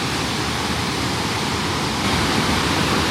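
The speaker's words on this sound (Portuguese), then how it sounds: "Junto comigo vocês estão conhecendo White River Falls." White River Falls in Oregon roars as a constant, dense wash of falling water, loud and close, steady throughout with a slight swell near the end and no voices.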